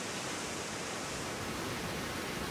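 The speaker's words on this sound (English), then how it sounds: "The waterfall today is regulated by a dam and only runs at half the power it did when Byron saw it." A dam-regulated Italian waterfall pours in a steady, dense roar of broadband rushing water, unbroken and even throughout.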